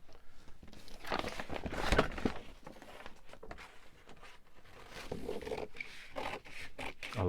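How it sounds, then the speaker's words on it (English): Close scraping and rasping snips of scissors cutting paper on a hard surface, in uneven bursts. "And then cut this down with a pair of scissors."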